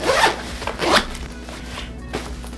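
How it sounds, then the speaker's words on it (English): Compression zippers on a packing cube being pulled shut, two quick rasping zips up close followed by softer rubbing of fabric, no talk. "we are going to do the compression zippers"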